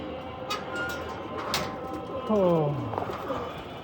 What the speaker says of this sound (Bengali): কবুতর উঠতেছে ভালোই